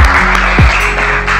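A class of students claps together for a group during an Islamic religious education lesson, a brief, close burst of dense hand claps with a voice audible over it.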